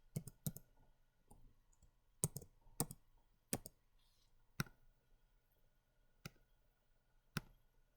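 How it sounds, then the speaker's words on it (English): Typing on a computer keyboard, a handful of sharp isolated key clicks and short pairs spread irregularly over quiet room tone, close and fairly faint. "I'll actually type in x, and I don't mean x."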